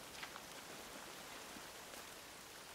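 Rain falls in the survival game The Forest, a faint, even hiss of drops with a few soft ticks, distant and quiet throughout, with no voices.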